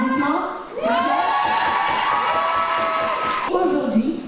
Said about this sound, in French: Par applaudissement, s'il vous